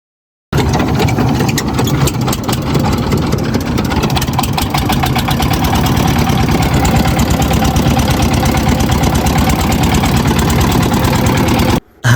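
A river boat's engine idles steadily and close by, a continuous low rumble with a fast, even throb running throughout.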